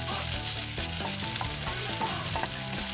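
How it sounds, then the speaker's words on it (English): Onions sizzle and crackle steadily in hot oil in a frying pan over medium heat, close up, with occasional stirring scrapes in the pan. "heat the oil in another frying pan. Add onions and cook on medium heat."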